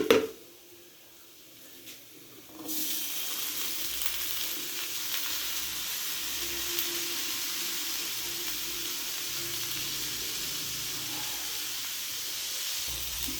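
Cooked black-eyed peas go into a pan of frying roasted coconut, setting off a sudden loud, steady sizzle that carries on unbroken after a brief quieter start.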